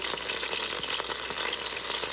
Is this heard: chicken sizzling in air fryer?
yes